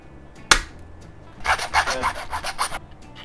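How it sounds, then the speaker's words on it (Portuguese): Plastic locking tabs on a motorcycle H4 headlamp bulb are rasped off with a hand file: one sharp knock, then about eight quick back-and-forth scraping strokes, close and clear, with no talking. "Basta você vir com um alicate ou que você tiver na mão, uma lima aí, cortar elas pra gente remover."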